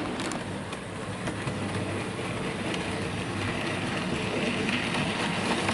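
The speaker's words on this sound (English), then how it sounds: "has the Beattie Well Tank pulling 5 wagons. Which is a typical short goods train you'd see on the branch line." A model Beattie Well Tank locomotive hauls five loaded goods wagons, making a continuous close rumble and clatter of small wheels on track that holds steady throughout.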